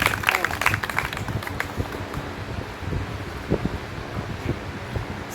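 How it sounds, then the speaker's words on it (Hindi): An audience at a school poetry gathering claps to welcome a young student poet. The applause is loudest and densest at the start, then thins out and tapers, with a little background murmur. "आप सभी इनका तालियों के साथ स्वागत करिए"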